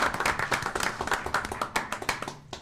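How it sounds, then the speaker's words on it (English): An audience claps at a community board meeting award presentation, a brisk run of close hand claps from a modest crowd, tapering off near the end. "So you can clap."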